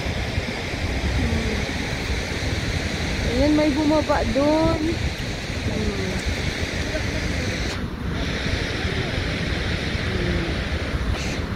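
Godafoss waterfall in Iceland gives a constant, broad roar of rushing water mixed with wind buffeting the microphone, while a person talks over it for several seconds.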